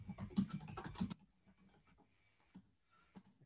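Quiet keyboard typing on a computer, a quick run of soft clicking keystrokes followed by a few scattered taps in a still room.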